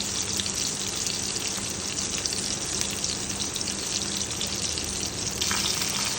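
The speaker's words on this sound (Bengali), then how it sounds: "একটা পিঠ ভাজা হয়ে গেলে আমরা উল্টে দিয়ে আরও একটা পিঠ মাছের ভেজে নেব" Pieces of rohu fish fry in hot oil, giving a steady, dense sizzle that holds without pause for several seconds, close and even, with no talking.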